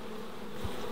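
Honey bees buzzing inside a hive built from an old fridge, a steady, dense, close swarm hum with no pauses and no voices.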